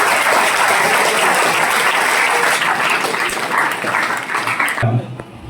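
School students give sustained applause at a meditation class, a loud, dense wash of clapping from many hands that thins slightly near the end and then cuts off.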